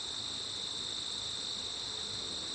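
Crickets and related insects chirping outdoors, a steady high-pitched continuous trill heard alone at moderate volume, with no talking.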